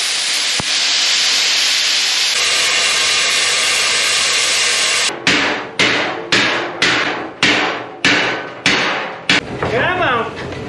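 Hammer strikes in a maker's workshop: a long hissing, steam-like roar gives way to about eight sharp, loud blows in a steady rhythm, each ringing out briefly before the next.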